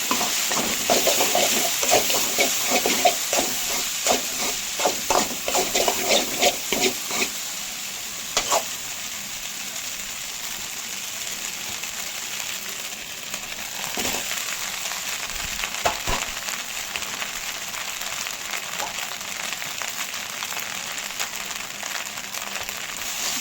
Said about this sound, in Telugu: బాగా గోబీని రైస్ని బాగా మిక్స్ చేసుకోవాలి.